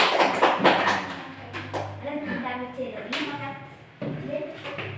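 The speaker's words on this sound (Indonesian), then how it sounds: "beri tepuk tangan teman-temannya supaya kompak ya" A class of schoolchildren claps for their classmates in a classroom, a brief burst of clapping at the start, then a teacher and children talking over low room noise.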